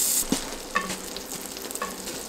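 Salami frying in margarine in a hot pan, a steady close sizzle with a few scraping stirs and clinks, no talking.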